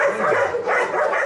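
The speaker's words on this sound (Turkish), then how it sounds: "Beylikdüzü Belediyesi Hayvan Barınağı'nın engellenenler evinde 12 köpek var." Dogs at a municipal animal shelter's disabled-dog unit yip and bark in quick, close, high-pitched bursts.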